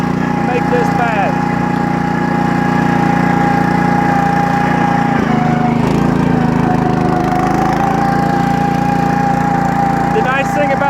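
A Permagreen ride-on fertilizer spreader runs wide open at full throttle, a loud steady engine drone with a constant hum and whine and no letup, close by and continuous throughout.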